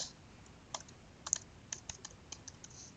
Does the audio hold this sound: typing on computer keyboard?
yes